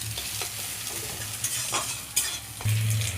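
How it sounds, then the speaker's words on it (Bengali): Scrambled egg for egg chowmein frying lightly in oil in a pan sizzles softly and steadily. A spatula stirs and scrapes in a few distinct strokes, close by, with no talking. "দেখুন হালকা ভাজবো, বেশি ভাজবো না"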